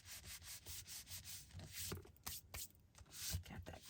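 A paper scrap being rubbed down firmly onto card, close rhythmic dry rubbing strokes sweeping back and forth in a steady pattern.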